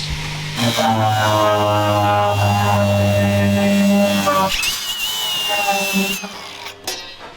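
A power tool cuts a marked notch in metal on an offroad bread van build, first with a loud steady whine and a low hum, then a higher grinding tone that fades out near the end.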